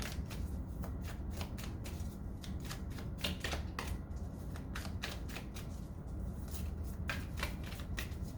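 Tarot cards shuffled in steady, rapid riffles, a run of crisp flicking clicks repeating over a low, constant background hum.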